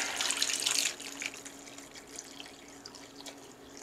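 Water runs from a kitchen tap, splashing loudly at first and then settling into a softer steady trickle, as water is added to sourdough bread dough; no one speaks.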